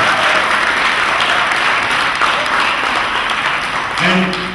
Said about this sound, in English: a big round of applause for Mr. Gideon Herbst